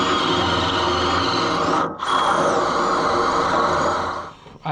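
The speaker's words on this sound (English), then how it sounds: "I used a step drill bit." A loud, continuous grinding whine of a step drill bit boring through metal, pausing briefly midway before resuming and winding down at the end.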